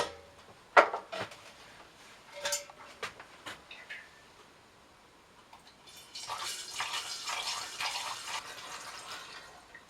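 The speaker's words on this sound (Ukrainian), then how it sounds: "Для зручності бутилювання знову відливаємо невелику кількість напою у меншу ємність." Homemade grape chacha being poured from a bottle into a smaller container, a few clinks and drips first, then a steady trickling liquid stream in the second half, close and moderately quiet.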